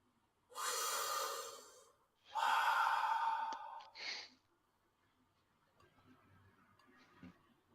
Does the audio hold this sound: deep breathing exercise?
yes